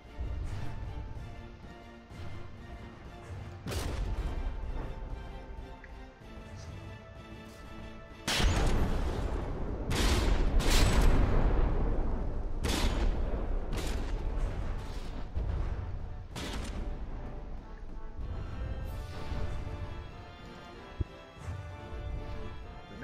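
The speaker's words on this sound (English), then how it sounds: "Now she's got all those guns pointed at the enemy. And bombarding away." Warship guns fire in a naval battle video game, with repeated heavy booms and crashing blasts, one cluster rumbling loud mid-way, over a continuous low battle din.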